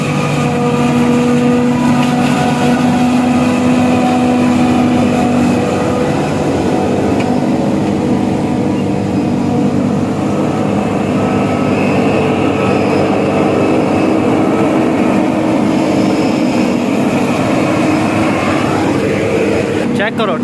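A tractor-like machine engine runs in a village, giving a steady, loud, continuous droning hum with a low rumble that holds without a break throughout.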